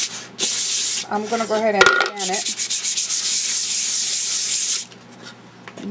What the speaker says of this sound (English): I'm also going to go ahead and sand this